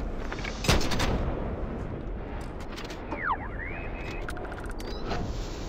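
Video game gunfire opens with one sharp, loud shot, then softer electronic zips and whooshing effects over a steady ambient bed of game noise, with no talking.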